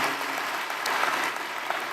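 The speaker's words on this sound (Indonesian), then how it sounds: "Yuk tepuk tangan buat Tuhan Bapak Ibu" A church congregation at a Bethany church service claps their hands together, a dense, steady patter of many hands filling the room for a couple of seconds with no voices over it.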